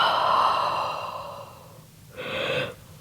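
A person exhales through the mouth during a yoga relaxation session, a long soft airy breath fading out, then after a pause a second shorter breath, close and moderately loud with no talking.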